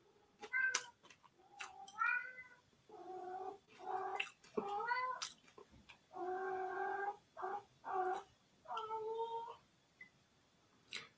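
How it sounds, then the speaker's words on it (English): A cat meows and caterwauls in a long run of drawn-out, wavering cries, about a dozen separate calls with short pauses between, close and fairly clear in a quiet room. "And there goes my cat or my tiger."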